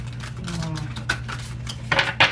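Tarot cards being shuffled by hand, with soft papery riffles and a few sharper snaps near the end, close and moderately quiet over a low steady hum.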